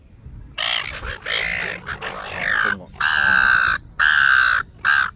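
Agitated birds squawk and caw harshly in the evening in Australia, a series of loud, close, drawn-out calls in bursts with short gaps, and someone speaks briefly among them.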